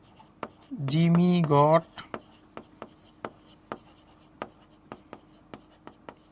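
Chalk or marker tapping and scraping on a classroom board as a problem is written out, short strokes in a steady sequence after a brief spoken phrase.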